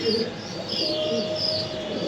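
Male racing pigeons in a loft give soft, rolling coos that repeat in a gentle rhythm at close range against a low background hum.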